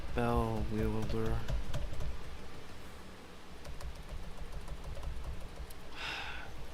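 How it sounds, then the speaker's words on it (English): Computer keyboard typing during live E3 coverage of Capcom and Freedom Games, a quick run of clicky keystrokes mixed with faint rustling, with a person talking over the opening seconds. "I'm getting very sick of this freaking keyboard."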